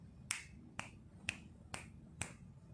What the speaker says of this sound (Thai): ดีดนิ้วสั่งเข้าใจยังคะ